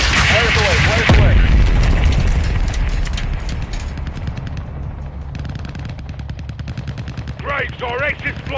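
Missile explosions and dense gunfire fill a Modern Warfare 2 campaign battle, with heavy booms at the start giving way to steady rapid machine-gun rattle, loud and continuous, while soldiers' voices call out over the fighting.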